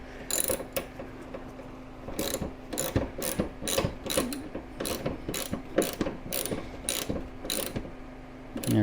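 Ratchet wrench tightening a radiator fastener on a C3 Corvette during radiator installation, a close series of rapid clicking bursts repeating in short strokes with steady background hum, no talking.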